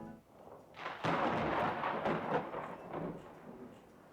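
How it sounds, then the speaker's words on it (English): Video game thunder rumbles outside a library, a heavy boom breaking in after a second and rolling on as a broad, loud roar that slowly fades. "there's a much louder boom than the one I caused as thunder rumbles outside"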